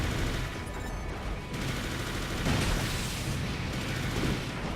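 Enemy plasma cannon fire in the Armored Core video game roars as a dense, continuous barrage of crackling blasts and booms, loud and unbroken for several seconds with no talk.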